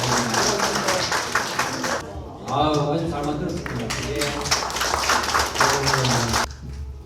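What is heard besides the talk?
audience applause at ceremony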